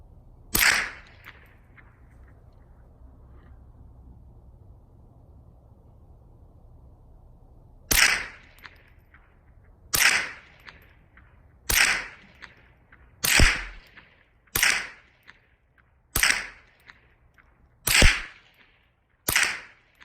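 A Ruger Charger pistol in a PMACA chassis fires a string of sharp, loud shots, one early then a steady run of evenly spaced reports with short decays, outdoors with no talking.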